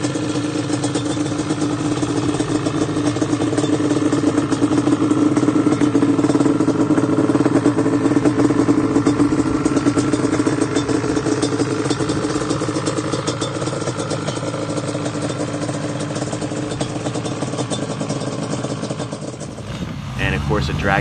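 A 1989 Yamaha Banshee ATV with T5 pipes runs loud and close, its two-stroke engine making a continuous buzzing drone that holds steady before cutting off near the end.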